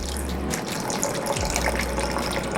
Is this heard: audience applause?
no